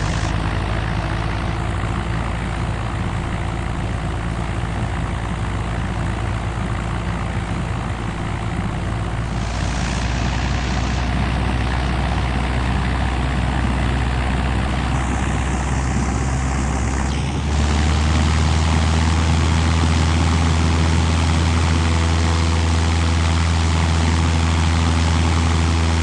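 Propeller aircraft engine in the mobile flight game FlyWings 2026, a steady loud droning hum that shifts pitch as power rises for takeoff, deepening into a stronger roar near the end.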